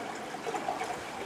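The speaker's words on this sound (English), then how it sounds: "And I am going to put 2 cups of water," Two cups of water poured into a lightweight backpacking cook pot, a brief steady trickling splash, close and moderately quiet.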